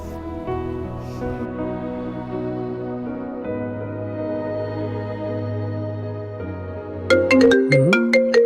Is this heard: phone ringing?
yes